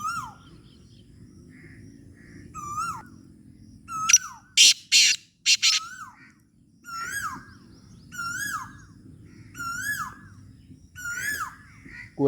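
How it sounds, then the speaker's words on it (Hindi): An Asian koel in mango and date season calls repeatedly, clear rising whistled notes in regular bursts at mid distance, with a burst of harsh cawing from other birds partway through. "कोयल भी काफ़ी आवाज़ देती बैठी है क्योंकि अंब का मौसम है"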